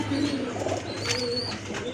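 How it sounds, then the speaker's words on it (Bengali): Double-bar pigeons coo in a low, steady murmur throughout, with faint chirps from other birds above a constant background hum. "এটা হচ্ছে আপনার ডাবল পট্টির কবুতর খুবই সুন্দর"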